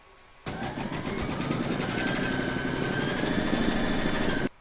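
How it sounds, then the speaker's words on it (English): An embroidery machine stitches a round on fabric held in a hoop, starting abruptly into a dense, fast, continuous mechanical whir that holds steady for about four seconds and then cuts off. "Pop your hoop into your machine and stitch round number 3"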